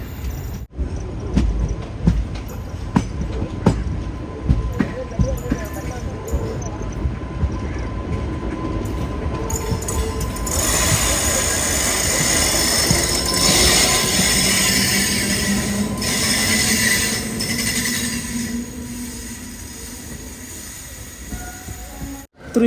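A lone goods-train locomotive with no wagons passes close by, a loud continuous rumble with squealing wheels and rattling that swells to its heaviest in the second half and cuts off sharply at the end.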